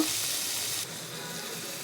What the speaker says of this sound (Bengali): এই যে ভালো করে ভাইজা নিতেছি